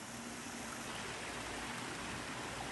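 Steady, close rush of a mountain stream tumbling over rocks on a forested hiking trail descending Mount Misen on Miyajima, a continuous broadband wash with no voices.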